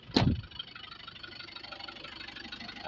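A used car engine at a quiet idle, a low steady hum with a faint rattle, following a single brief knock near the start.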